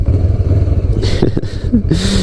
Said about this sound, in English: You'll notice it has the stock exhaust.